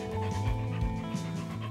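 A dog pants steadily in quick, rhythmic breaths close by, with a faint low hum in the background.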